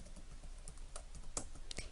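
Quiet, irregular keystrokes on a computer keyboard as chart data is typed into a document, a handful of soft clicks with a couple of sharper taps, close and alone.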